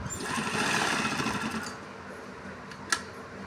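A sewing machine stitches a mohri, the cuff of a sleeve, with a fast, close, steady rattling run that stops partway, followed by quieter handling and a single sharp click.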